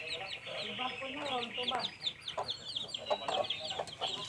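Rhode Island Red chickens cluck and chatter in a backyard flock, with a rapid series of close clucks and squawks, while a person talks over them.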